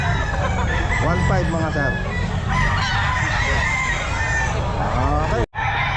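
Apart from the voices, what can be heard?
gamefowl chickens and roosters at a pet market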